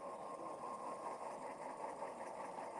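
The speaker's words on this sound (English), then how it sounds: "you hear that diesel engine notching up because it's working harder against my hand to keep the locomotive running" An Athearn model locomotive's sound decoder plays a diesel engine working harder as it notches up. It gives a faint, steady mechanical hum and throb that runs continuously, with no voices.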